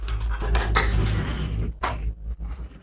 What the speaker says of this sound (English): I'm gonna give these eggs a mix